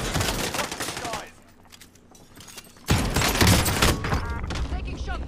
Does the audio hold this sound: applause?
no